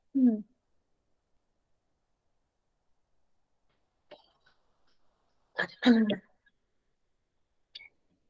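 A few short, isolated coughs and throat sounds with long quiet gaps between them, close to the microphone.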